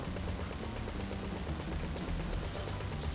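Rapid gunfire bursts in GTA 5 crackle steadily throughout, with a dense, continuous texture of shots over a low background drone.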